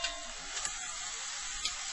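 Flour cooking in fat in a pan into a paste: a steady, soft broadband sizzle with a couple of faint scraping stirs, continuous and close, no talking.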